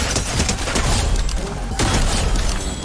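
Shotgun blasts and heavy thuds burst in rapid, uneven succession during a Fortnite match, loud and close, with little pause between shots.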